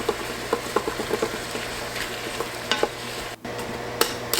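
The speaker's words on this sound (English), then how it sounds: "go back to your vegetables, give them a stir just to make sure nothing's burning." Celery and carrot chunks sizzle in an Instant Pot while a utensil stirs them, giving quick rhythmic scraping and clicking strokes over a steady low frying hiss, close and without speech.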